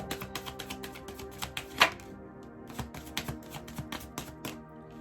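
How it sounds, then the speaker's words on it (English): Cards are shuffled by hand in a quick run of soft slapping clicks, uneven in rhythm and close up, with no voices. "the cards are actually shuffling a little bit"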